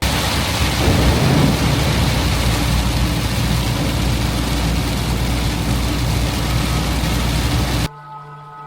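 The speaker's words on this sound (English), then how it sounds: "I've been running away from a big storm all day." Heavy rain from a big storm pours in a dense, steady roar around a van on an Arctic-bound road trip, loud and constant with low rumbling beneath, cutting off abruptly near the end to a quiet hum.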